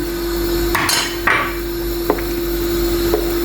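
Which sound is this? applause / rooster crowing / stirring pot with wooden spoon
stirring pot with wooden spoon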